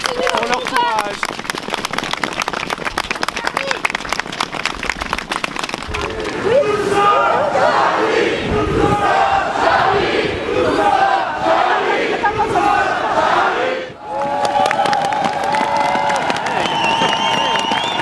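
A large crowd at a Montreal public gathering honouring police claps, cheers and shouts in tribute, the noise swelling into a loud sustained roar, briefly dipping, then resuming with a sustained tone rising through it.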